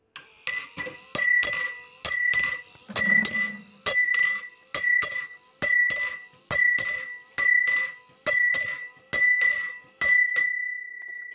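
A bell hung on a yoke rings about a dozen times in a steady rhythm, each bright metallic strike ringing out briefly before the next, loud and close.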